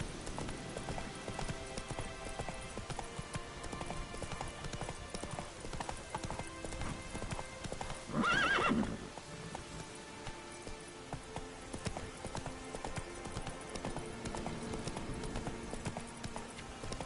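Roach gallops on in The Witcher 3 with continuous rapid clip-clop hoofbeats, and a short, loud neigh rises out of them about halfway through.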